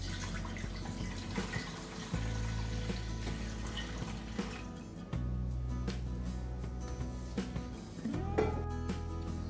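Water runs steadily into a pot for a catechu dye bath used to dye banana fiber, a continuous splashing pour with small clunks and bumps, close and fairly loud, no voices.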